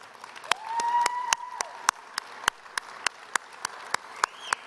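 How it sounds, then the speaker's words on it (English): Sparse, distinct claps ring out one after another at a fairly even pace in a quiet hall at an Alberta celebration, faint overall, with a thin sustained tone in the background. "give yourself a round of applause"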